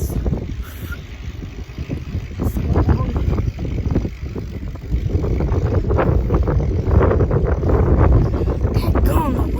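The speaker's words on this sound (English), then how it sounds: "the wind is so bad." Strong wind buffets a microphone outdoors during a bike ride, a loud, continuous low rumble that swells and gusts throughout, with a person talking now and then.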